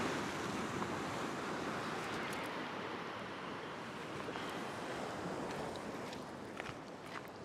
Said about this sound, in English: So I've got a little gap in the waves.